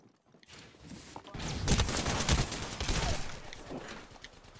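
A charge rifle in a video game lets loose a sustained, crackling burst after a brief silent start. The blast swells, stays loud through the middle and then tapers off. No voices are heard.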